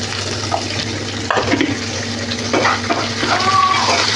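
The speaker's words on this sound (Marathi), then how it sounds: "आता टाकू थोडंसं तेल परत सगळ्यात आधी टाकते कांदा दोन मिरच्या पण टाकते मी इथं" Chopped onion and two green chillies fry in hot oil in a wide, shallow pan, giving a steady close sizzle with a few clinks and scrapes of a spoon against the metal.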